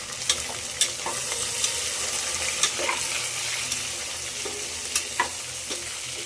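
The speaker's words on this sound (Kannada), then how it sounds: "ಚೆನ್ನಾಗಿ ಸ್ವಲ್ಪ ಮಿಕ್ಸ್ ಮಾಡಿ ಹಸಿ ವಾಸನೆ ಹೋಗೋವರೆಗೂ ಫ್ರೈ ಮಾಡ್ತಾಯಿದ್ವಿ" Masala is stirred and fried in a pan: a steady sizzle runs throughout, with occasional light scrapes and taps of the spoon against the pan, close and even.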